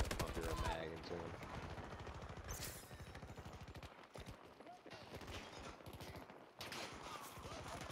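Rapid bursts of automatic gunfire from a first-person shooter game, a full magazine emptied in dense rattling volleys that run almost the whole time, loud and close, with a voice talking over parts of it.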